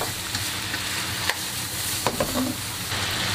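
Chicken stir-fries in a wok just after yellow wine is poured in, a steady sizzling hiss with a few sharp scrapes and clicks of the spatula, fairly quiet and without speech.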